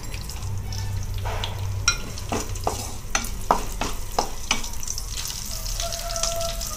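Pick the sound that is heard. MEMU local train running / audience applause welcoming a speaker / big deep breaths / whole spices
whole spices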